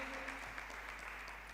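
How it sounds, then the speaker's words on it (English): Audience claps for Light Academy at a national school debate competition, a soft, even patter of applause over a steady low electrical hum, with a faint voice briefly at the start. "A round of applause, please,"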